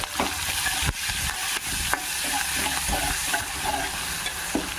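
Onion and green chilli pieces with turmeric fry in a pan for Andhra-style okra fry, a steady close sizzle with a few sharp stirring clicks and scrapes of a spoon, no voices.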